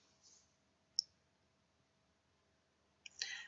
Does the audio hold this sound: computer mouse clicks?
yes